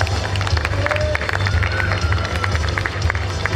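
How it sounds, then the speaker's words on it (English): Crowd at a school annual function clapping and cheering for a student award winner, loud and close, mixed with lively hubbub and voices throughout. "Please give them a huge round of applause."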